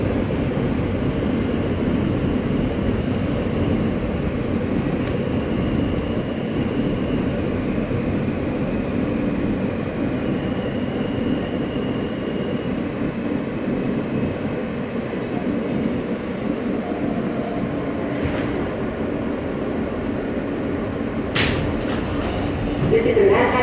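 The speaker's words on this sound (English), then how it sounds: "This is a Manhattan-bound F local train." On board an NYC Subway R160A F local train in motion, a continuous low rumble and rail hum with steady wheel noise, with a faint brief higher squeal near the end.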